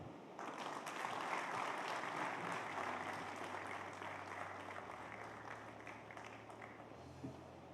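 Sustained applause from a conference audience at a defence summit, a steady wash of many hands clapping at moderate distance, holding evenly for several seconds before easing slightly.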